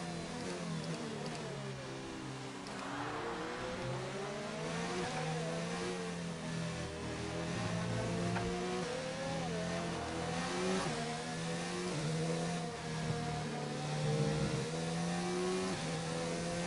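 Formula 1 race car engines in the video game F1 2019 at the Australian Grand Prix, a loud continuous high-revving whine rising and falling through gear shifts for the whole stretch, with no talk over it.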